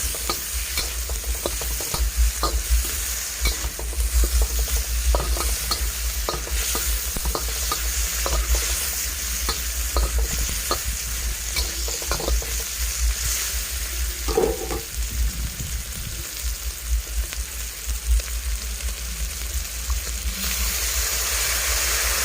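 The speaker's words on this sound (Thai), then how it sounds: "ผัดให้กระเทียมหอมๆนะคะ ผัดจนกระเทียมหอมค่ะ" Pork belly stir-fried with crushed garlic and chili in a hot wok, crackling steadily with scraping stir strokes throughout, loud and close, with no talking.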